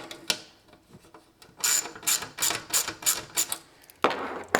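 Ratchet socket wrench tightening a bolt while building a RatRig V-Core-4 IDEX 3D printer, giving a quick series of sharp close clicks in even bursts, with a couple of isolated knocks before and after.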